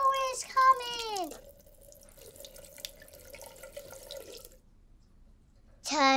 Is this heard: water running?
yes